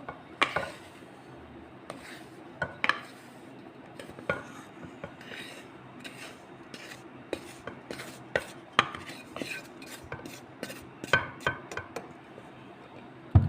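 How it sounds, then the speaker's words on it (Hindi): A spoon stirs raisins, grated coconut and chopped almonds together in a bowl, producing a steady run of close scraping clinks and knocks, irregular but continuous, with no talk. "जिसमें किशमिश और कद्दूकस किया हुआ खोपरा है और कटे हुए बादाम है, ये इसमें मिक्स कर देते हैं।"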